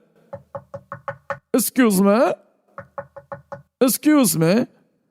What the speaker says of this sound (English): Did you hear my knocks, guys?